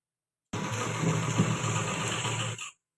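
A sewing machine stitches a salwar in one steady, close run of about two seconds, a dense whirring hum that starts abruptly after silence and stops cleanly.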